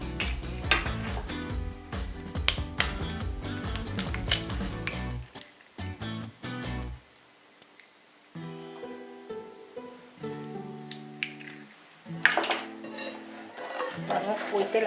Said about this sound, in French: On va séparer les jaunes du blanc, comme ça.